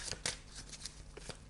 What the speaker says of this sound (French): On va faire le tirage de les chroniques de la Sibylle